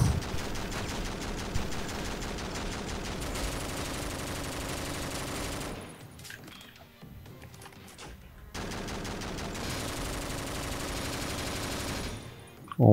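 Rapid automatic gunfire from the top-down shooter video game OTXO, dense continuous bursts that drop out briefly midway before resuming loud and sustained.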